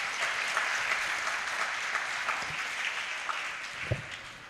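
An audience breaks into steady, sustained applause at a Hindi literary discussion session at the Dainik Jagran Samvadi festival. The dense clapping carries evenly throughout with no voices over it.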